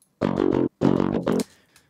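Raw electric guitar DI from the Solemn Tones Odin 2, with no amp modeling: two short bursts of rhythmic picked chords, then a third shorter burst, each cut off abruptly before a faint decaying tail.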